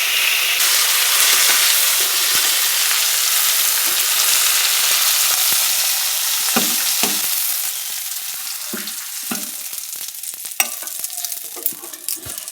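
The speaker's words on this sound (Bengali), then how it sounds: "মাছ কাটাকে চলো ভেজে রেখে দিই" Fish pieces fry in plenty of hot oil with a loud, dense hissing sizzle that eases about two-thirds through, punctuated by crackling pops and stirring clatter, close and with no talk.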